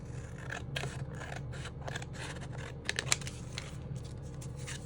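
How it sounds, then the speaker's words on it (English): Scissors cut through paper for a craft project, a run of crisp snipping and rustling strokes in close succession, close to the microphone, over quiet room noise. "I'm not normally very good at cutting a straight line, so we'll see how good I do here."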